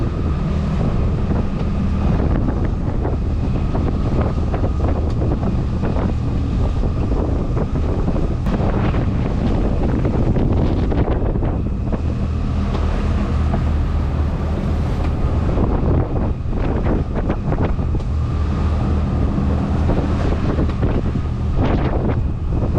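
Heavy wind buffets the microphone aboard an offshore sailboat motoring under engine, a constant loud roar with churning water and a low engine rumble underneath, lasting without a break and with no talk.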